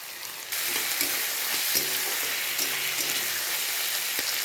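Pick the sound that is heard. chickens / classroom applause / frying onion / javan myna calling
frying onion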